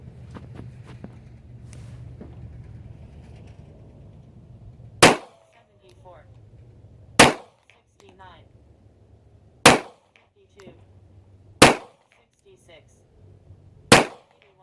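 A pistol firing Federal Syntech TSJ bullets at a range: five loud, sharp, close reports spaced about two to two and a half seconds apart, with quiet handling noise between shots.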